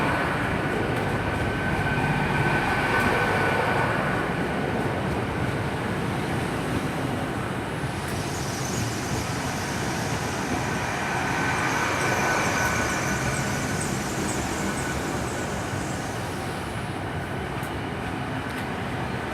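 A Class 800 train, unit 800 315 on the Bristol Temple Meads to London Paddington service, pulls into Swindon station with a steady, loud rumble and hiss of wheels on rail, swelling and easing as carriages pass close by.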